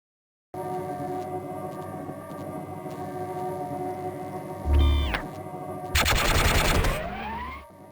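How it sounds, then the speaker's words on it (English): Rapid-fire weapon shooting at a target in the video game Gunman Chronicles: two dense bursts of gunfire over a steady, humming game ambience, the second burst longer and louder. "This target requires rapid-fire mode to score."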